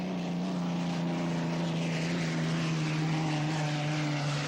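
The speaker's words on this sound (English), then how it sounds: "coming down the outside in that turbine boat" Turbine-powered racing boat running during a race, a steady loud engine drone with a strong sustained tone holding level throughout, alone without talk.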